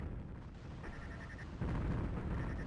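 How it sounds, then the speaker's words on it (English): Polaris torpedoes launch at a cruiser in the space game EV Nova, making a low, rumbling roar of blasts that swells louder partway through. "we'll tell this cruiser what we think of it with these sweet Polaris torpedoes."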